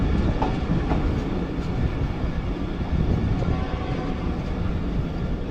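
Khyber Mail passenger train near Raiwind station outside Lahore, Pakistan: a steady, close rail rumble with a faint clatter of carriages, continuous and even in loudness, with no voices.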